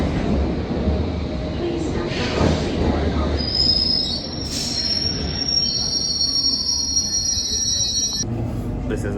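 Train wheels squealing on the rails of a London train, a loud rumbling ride with a high, sustained screech rising midway and holding for several seconds before cutting out, with faint voices in the background.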